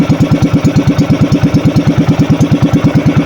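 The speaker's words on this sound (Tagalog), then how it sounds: "Naguktok ating makina." A fishing boat's engine knocks in a loud, steady, rapid low thumping rhythm that runs without a break and fills the whole stretch with no talk over it.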